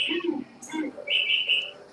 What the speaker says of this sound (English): Where's that bird coming from?